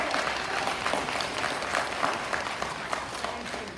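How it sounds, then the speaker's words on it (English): Audience applause for kindergarten graduates at a school promotion ceremony, a dense steady wash of many hands clapping throughout, fairly loud and even with no pause. "Would you please give them another round of applause?"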